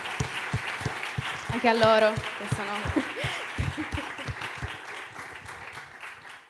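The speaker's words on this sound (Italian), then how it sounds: "adesso un applauso intanto a tutto il gruppo" Applause from an audience for a group at a session of the Sardinian institute ISRE, a short burst of clapping rising and fading under someone speaking Italian, with a few chuckles mixed in.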